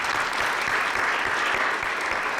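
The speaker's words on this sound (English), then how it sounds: "Give them a round of applause." An audience at a Martin Luther King Jr. community event gives a steady, dense round of applause. The clapping is sustained and fairly loud across the whole short stretch.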